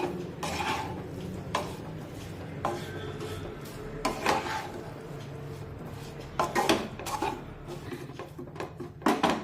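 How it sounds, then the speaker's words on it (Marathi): Spiced potatoes are stirred in a kadhai to make a dry potato dish. A spoon scrapes and knocks against the metal pan in irregular, fairly close clatters, with several sharper taps spread through the stirring. "बटाट्यामध्ये हा सर्व मसाला आपल्याला अगदी व्यवस्थित मिक्स करून घ्यायचा आहे"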